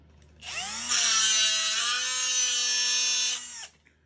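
A high, whining angle grinder spins up and cuts steadily through transformer iron for about three seconds, then winds down and stops.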